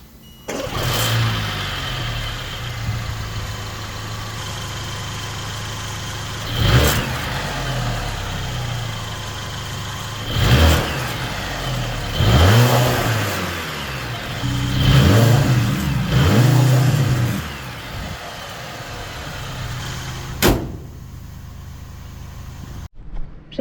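A Mercedes-AMG GLC 63 S hybrid SUV engine, 680 hp, idles steadily, then revs in several short bursts with rising and falling pitch, followed by a final sharp blip and quieter idle.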